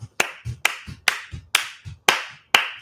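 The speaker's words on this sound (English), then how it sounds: "see how I clapped off?" Seven sharp hand claps, close and loud, spaced roughly half a second apart in an even rhythm, each followed by a short room echo, with no talk between them.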